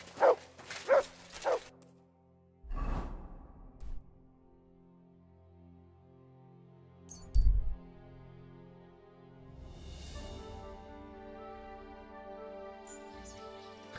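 Mutt the dog in Kingdom Come Deliverance II barks a few times in quick succession, then whimpers, with sparse sounds and a sustained musical drone between.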